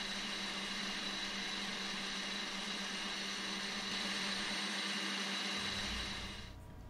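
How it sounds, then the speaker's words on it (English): A stand mixer with a whisk attachment whips egg whites and cream of tartar, a steady close motor whir with constant hum, running evenly for several seconds before winding down at the end. "we'll use our whisk attachment, a little bit of cream of tartar, and we'll whisk together our egg whites until they start to form soft peaks"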